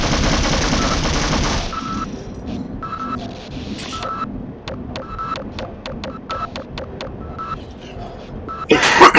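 Rapid gunfire from Half-Life (1998) on a noisy game soundtrack: a dense burst at the start, then a series of distinct shots spaced roughly evenly, with another loud burst at the very end.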